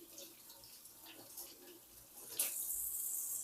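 Tap water runs over salted eggplant being rinsed in a sink, a soft, fairly quiet trickle with brief splashes and a sharper burst of spray partway through.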